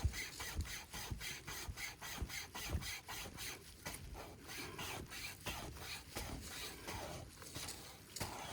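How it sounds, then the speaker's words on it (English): A wire saw pulls back and forth through wood in the forest while logs are cut for a camp shelter, giving a steady rhythmic rasping of repeated strokes, close and moderately loud. "I have the wire saw with me, so we are gonna chop these into smaller pieces"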